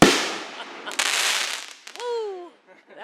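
Fireworks on a Tennessee trip, a loud close crackling burst that trails off, a second sharp pop and whistling shriek, then fading. Voices are faintly present.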